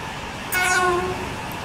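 Slow train in an ScR railway video game, a steady rail rumble broken by a loud falling horn blast of several tones that lasts about half a second, with no voices.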